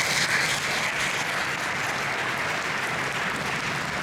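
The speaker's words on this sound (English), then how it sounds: "Let's give a round of applause for North End" A room of guests at an economic forecast luncheon in the North End Community Center in Lafayette applauds steadily, a dense, even wash of clapping with no break.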